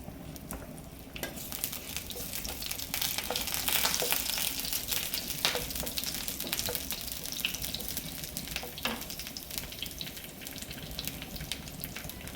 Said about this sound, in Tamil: ஸோ அது லைட்டாக பொரியுது பாருங்கள்.